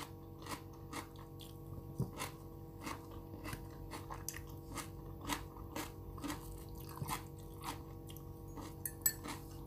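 Close, quiet eating sounds of carrot salad, stir-fried noodles and fatty salmon, with soft crunchy bites and chewing repeating at a steady rhythm over a low hum.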